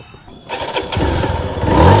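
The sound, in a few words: TVS Sport motorcycle engine starting with single button press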